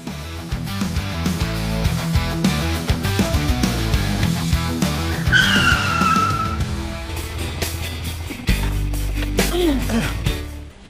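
Revving motorcycle engine during stunt riding, tires skidding and squealing across pavement, a continuous roar rising and falling over about ten seconds.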